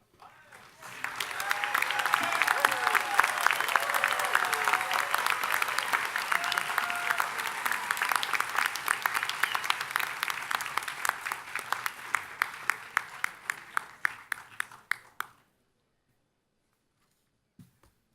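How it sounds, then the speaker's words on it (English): Sustained audience applause at a business school commencement, dense and steady for about fifteen seconds, thinning into a few scattered final claps before stopping abruptly. "I'd ask you to join me in a round of applause for the graduates"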